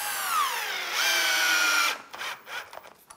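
Cordless drill driver sinking a screw into wood, a steady whining motor tone that rises in pitch as it speeds up, running about two seconds before stopping, followed by a few faint clicks and handling knocks.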